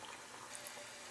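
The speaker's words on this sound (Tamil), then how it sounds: "அந்த ஊற வச்சுருந்த தண்ணியை தான் இதில் நான் ஊற்றியிருக்கேன் நான்" Water saved from soaking three-quarters of a kilo of jeera samba rice pours into a cooking pot for paneer biryani, a faint, continuous splashing trickle with no talking.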